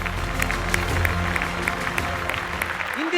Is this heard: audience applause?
yes